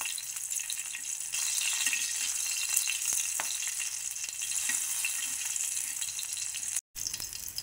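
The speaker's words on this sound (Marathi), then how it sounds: "छान मिरच्या कलर बदलूपर्यंत भाजत राहायचं" Green chillies cut in pieces and fried in oil until they change colour, a steady close sizzle with a few stirring clinks and a brief dropout near the end.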